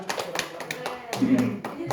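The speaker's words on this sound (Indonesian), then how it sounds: "Tepuk tangan untuk mereka." Scattered hand claps from students in a classroom during a micro-teaching lesson, a few uneven claps over roughly two seconds with voices talking underneath.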